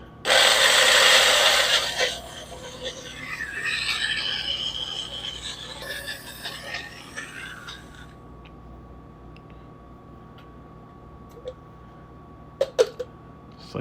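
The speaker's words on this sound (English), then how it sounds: "can we get this blended up? Not the best blender" A small, cheap blender whirs loudly through an olive oil marinade for about two seconds, then stops, leaving quieter clatter and rustling of kitchen prep with a few sharp knocks near the end.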